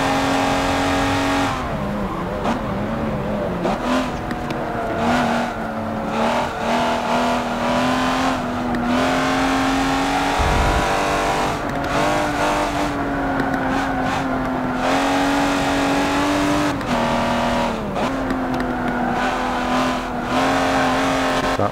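A race car in a Forza video game drives hard through corners, its engine droning loud and steady with repeated gear shifts and rev changes, tire noise underneath, no talk over it.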